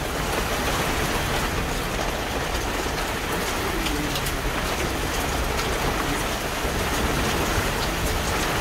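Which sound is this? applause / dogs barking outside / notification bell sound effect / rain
rain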